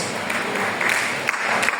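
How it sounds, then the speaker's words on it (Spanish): Brothers and sisters in a Spanish-speaking congregation applaud to the Lord, a continuous even patter of many hands, moderately loud and slightly distant, with no speech over it. "Fuerte el aplauso al Señor, hermanos."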